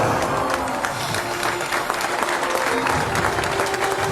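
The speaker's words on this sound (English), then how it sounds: "she's walking out on the red carpet and everyone's clapping her" A crowd claps dense and continuous for a woman walking out on a red carpet in a film scene, loud and close, with faint voices underneath.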